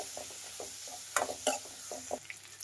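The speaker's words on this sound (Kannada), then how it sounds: "ಮಸಾಲೆ ಚೆನ್ನಾಗಿ ಮೀಡಿಯಮ್ ಉರಿಲಿ ಫ್ರೈ ಮಾಡಿದಷ್ಟು ತುಂಬಾನೇ ಚೆನ್ನಾಗಿ ಬರುತ್ತೆ" Spices and fennel seeds frying in a pan over a medium flame for an egg and lima bean sambar, a steady soft sizzle with a few brief scraping stirs of the spoon.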